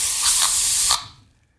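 A spray can hisses in one loud, continuous burst with a couple of brief sputters, then cuts off and the sound fades into quiet.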